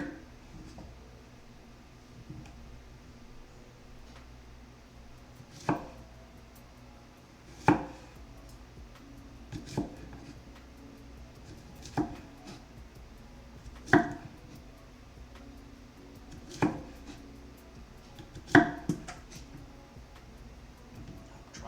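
A knife slices an onion into rounds on a cutting board. Separate, sharp thunks come every second or two over a long stretch, and a low voice murmurs faintly in the background.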